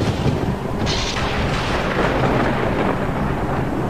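Cartoon thunderstorm with steady heavy rain and a low rumble of thunder throughout, loud and continuous, with no voices.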